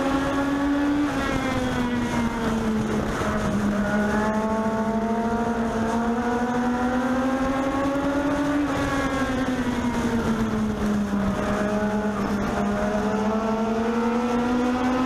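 Legends race cars at Meridian Speedway in a 25-lap main event, a loud continuous engine drone that rises and falls in pitch as the pack circles the track, with no voices over it.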